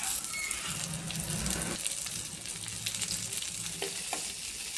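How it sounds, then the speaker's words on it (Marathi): Oil sizzles steadily in a pan with mustard seeds and onion as okra is added, with occasional stirring scrapes and crackles, moderately loud and continuous, with no voices. "कांदा थोडासा लालसर झाला की त्यात आपण टाकूयात भेंडी"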